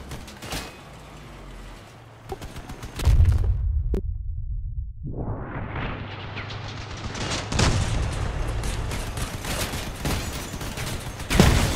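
Shotgun gunfire in the vehicle combat video game Crossout, loud repeated blasts and bursts with a heavy boom midway, followed by dense continuous firing and explosions.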